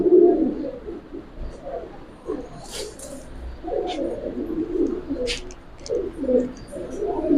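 Pigeons of the Giribaz kind coo in repeated low, throaty bursts, close and moderately loud, one pair vibrating as they call, with faint background noise and a few brief higher sounds.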